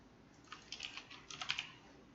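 A computer keyboard is typed on in a quiet room: a short, soft burst of quick, uneven keystrokes in two small clusters.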